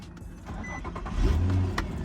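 A Nissan Skyline R34 engine with about 180,000 miles turns over and catches, the low rumble swelling into a steady idle nearby.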